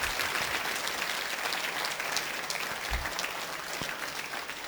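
An audience at an inspirational talk clapping for their parents, steady, fairly faint applause from a large crowd, continuous and even throughout.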